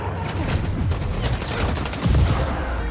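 Rapid gunfire rattles through a Spider-Man 2 fight on PS5, with overlapping bursts of shots and a heavier burst near the end, loud and continuous throughout.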